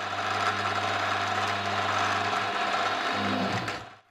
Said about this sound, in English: I have no clue why this end mill is chattering in that fashion.